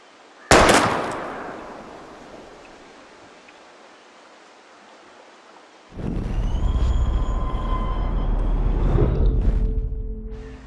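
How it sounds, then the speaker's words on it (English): In the video game Life Is Strange, a single sharp gunshot aimed at bottles cracks loudly near the start and decays into a long, loud reverberant rumble, followed later by a sustained noisy roar with tonal hum. "We're gonna shoot all these bottles without wasting a single bullet."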